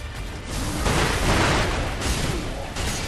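A firecracker prosthetic bursts in the video game Sekiro, giving crackling pops and booms under dense game noise and clashing, with no talk.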